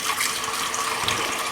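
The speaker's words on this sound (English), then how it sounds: "Now I'm going to add cold water" Cold tap water running into a pan, a loud steady hissing splash that is close and continuous, with no talk over it.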